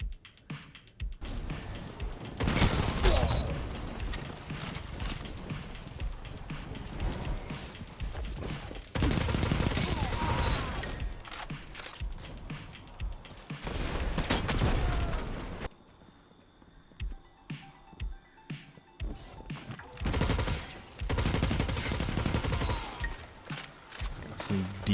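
Bursts of submachine gun fire in a video game, rapid rattling volleys repeated several times at close range, separated by brief quieter gaps.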